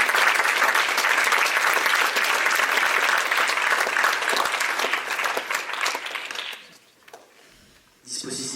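A cinema audience applauds a film guest at a screening discussion, a loud, dense, sustained clapping that tapers off over several seconds, followed by a brief quiet gap and then a voice starting to talk.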